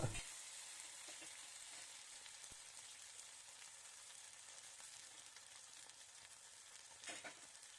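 Hot water poured into a hot pan of oil with roasted rava, cashews and raisins for rava kesari gives a faint, steady hiss and sizzle, with a brief louder flare of bubbling near the end.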